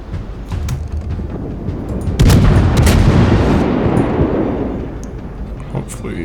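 Naval guns fired from a warship in World of Warships: a sudden heavy salvo boom with a long rumbling decay, following a few fainter shots, loud and close.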